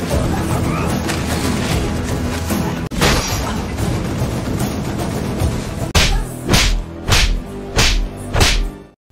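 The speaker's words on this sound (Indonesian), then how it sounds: "Singham lalu bertarung dengan tangan kosong melawan mereka." Bare-handed brawl in an Indian action film: a dense run of whooshes, whip-like swishes and heavy punch impacts, ending in a series of about five spaced, loud thwacks.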